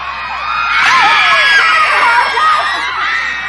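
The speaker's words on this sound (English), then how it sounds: "you get all these girls screaming and shouting" Girls at a concert scream and shout together, a loud, dense, continuous wall of high-pitched shrieks and cries that keeps swelling.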